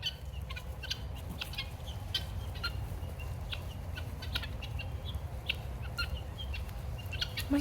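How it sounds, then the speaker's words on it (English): Chickens cluck and call around a walker on foot, with scattered short calls and a few wing flaps over steady low outdoor rumble, fairly near and moderate in level. "birds are following me"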